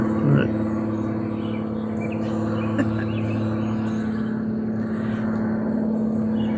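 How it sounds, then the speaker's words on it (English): A steady low drone of an airplane passing overhead, loud and continuous, with faint birds chirping in the background. "There was a big loud airplane while I'm staring him down."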